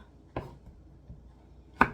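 A knife slices a Korean squash into rounds on a cutting board, giving three faint, sharp chopping taps spaced irregularly, with a quiet kitchen in between.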